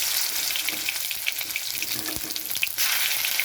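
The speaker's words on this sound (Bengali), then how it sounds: "এখানে আমার সর্ষের তেলটা গরম হয়ে গেছে তো আমি এখানে রসুন দিয়ে দিচ্ছি" Garlic frying in hot mustard oil gives a bright, close sizzle with scattered spitting pops, easing slightly before surging louder again near the end.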